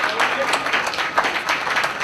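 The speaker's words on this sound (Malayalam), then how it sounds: "നിങ്ങളൊന്നും കൈയടിച്ച് പ്രോത്സാഹിപ്പിക്കാം" Crowd clapping at an arm wrestling competition in Kerala, a dense, steady patter of many hands with scattered louder claps, sustained and moderately near throughout.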